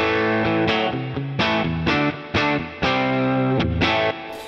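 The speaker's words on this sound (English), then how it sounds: "when I push play on the looper pedal" A distorted electric guitar loop plays back through a Boss Katana amp with reverb, looper pedal repeating chords struck in a steady rhythm, each strum ringing out loud and washy.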